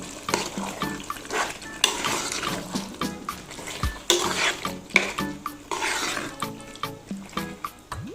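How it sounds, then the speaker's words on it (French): A spoon stirs white beans in a pot over low heat, making repeated wet scraping and clinking knocks against the metal in a steady rhythm, with a soft simmering hiss beneath. "On va mettre l'haricot blanc. Ensuite on mélange."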